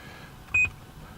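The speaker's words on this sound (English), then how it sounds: "Not a fan of the beeping" A cheap double-DIN aftermarket car radio in an Audi TT gives a single short electronic beep, loud and close against quiet cabin background.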